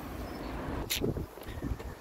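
Wind buffets a microphone with a steady low rumble and rushing noise, with a brief sharper gust or bump partway through.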